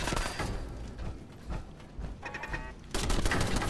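Gunfire in Fallout 4 crackles in a dense run of rapid shots that keeps going across the whole stretch and grows louder in a final burst.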